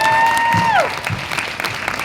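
Audience applause at a fan day event, dense clapping from a crowd filling the room, loud and steady, while a sustained tone glides downward and fades early on.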